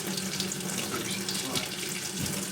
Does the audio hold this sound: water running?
yes